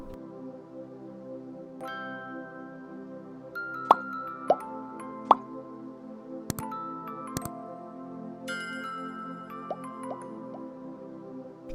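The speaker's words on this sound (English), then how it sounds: "We press well until we extract all the juice." Grated cucumber is pressed by hand to force out its juice, making soft wet squishes with dripping and sharp plops that come close up over a steady background hum.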